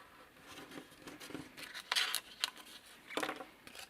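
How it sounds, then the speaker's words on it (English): Close, quiet scraping and slicing sounds come in short, irregular strokes, a blade dragging through thick paper with soft crinkles between cuts. "I'm going to use the craft knife again"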